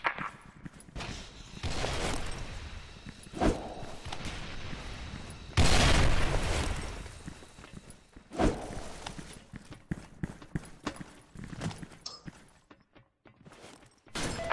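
Grenade explosion and gunfire in a multiplayer shooter video game: scattered sharp shots, then a loud broad blast lasting about a second, followed by more scattered cracks and clatter fading toward the end.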